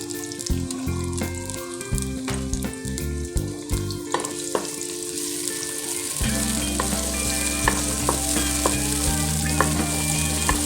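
Onions fry in hot oil in a cooking pan, giving a steady loud sizzle broken by clinks and scrapes of a utensil against the pan, with a low hum underneath and no talking.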